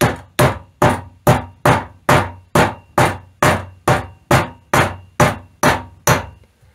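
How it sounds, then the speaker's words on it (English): Thirteen sharp metallic taps from the rounded end of a ball peen hammer punching holes in a gasket, in a steady, evenly spaced rhythm, each ringing briefly before the next strike, close and loud with no talk. "take the rounded end of your ball peen hammer"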